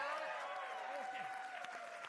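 Studio audience of a Quebec game show applauding, a brief wash of clapping beneath a host's voice and a sustained musical tone.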